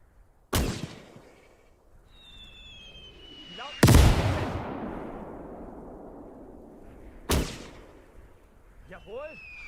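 Artillery and gunfire boom through a WWII battle in the game Gates of Hell, with three loud, sharp blasts spaced a few seconds apart, each trailing off into rumbling echoes and debris.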